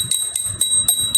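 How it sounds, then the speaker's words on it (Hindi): A hand bell rings in a home in a steady series of about five quick strokes, each a bright metallic ting with a lingering tone, close and fairly loud with no voices. "इस तरह से घंटी ली है"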